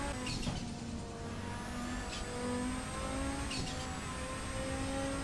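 A race car engine in the racing game Assetto Corsa, from a GTO versus Quattro comparison during a hot lap, revs loud and steady at high pitch, holding its note with slight shifts and no talking.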